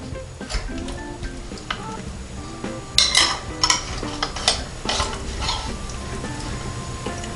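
Utensils scrape and tap through a pumpkin pie baked in a smart oven air fryer, a scatter of clinks and knife-on-pan scrapes, denser in the middle, with a faint tone running beneath.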